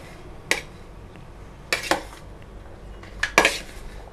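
Spiced chickpea sundal being mixed in a metal vessel: three bursts of sharp clanking and scraping of a spoon against the pot, separated by quiet pauses.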